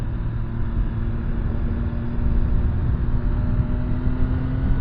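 A 2023 MV Agusta Brutale 800RR motorcycle gives a deep, steady exhaust burble and rumble up close, swelling slightly midway, with strong wind-like noise over it.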